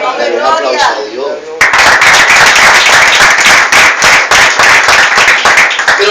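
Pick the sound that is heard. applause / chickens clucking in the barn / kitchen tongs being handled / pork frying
applause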